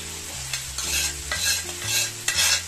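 Noodles go into a hot fideuá pan and are stirred, with close scraping and rustling strokes in uneven bursts over a steady sizzle, and no voices.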